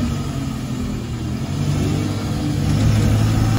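Hitachi ZW100 wheel loader with a 3.6-litre diesel engine, set up for snow removal, runs with a steady low rumble that swells slightly as it works, close and alone without speech.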